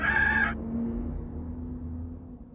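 A rooster crows in a short, bright, tonal burst that cuts off abruptly, followed by a low, quiet hum of background noise.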